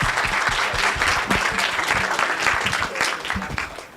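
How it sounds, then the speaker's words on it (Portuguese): An audience claps for a presenter after a talk on NES hacks, with full, close applause running steadily through the moment and faint voices mixed in beneath. "Vamos bater umas palmas aí para ele."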